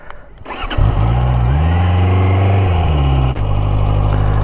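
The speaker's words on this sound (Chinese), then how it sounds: "首先先感受一下它这个一档怠速的感觉，非常非常的平顺了" After a soft start, a QJmotor Race 800 motorcycle engine settles into a smooth, steady idle in first gear, loud and close, with a brief dip near the end.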